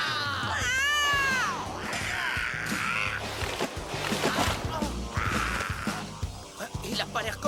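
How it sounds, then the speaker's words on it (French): A cat in a French-dubbed Mighty Morphin Power Rangers episode meows and caterwauls in long, wavering, drawn-out yowls that rise and fall. The cries are loud and close, with scuffling and other sounds between them. "Il a pas l'air commode, ce chat!"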